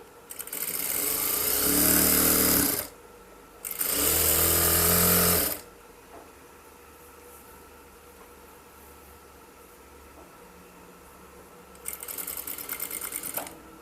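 An electric sewing machine stitching a salwar, two loud runs of rapid whirring stitches about two seconds each, a quiet pause with faint rustling, then a shorter burst near the end.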